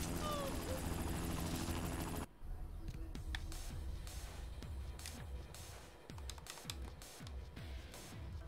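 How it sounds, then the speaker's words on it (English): A helicopter's rhythmic rotor thumping in the video game Spider-Man 2 runs throughout at moderate distance, following a loud noisy burst at the start, with scattered clicks and thuds over it. "A helicopter? Seriously?"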